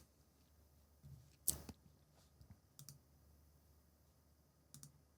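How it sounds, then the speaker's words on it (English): Computer mouse clicks, several sharp, isolated taps spaced a second or more apart, close but quiet, over a faint background hum with nobody speaking. "I'll click over here."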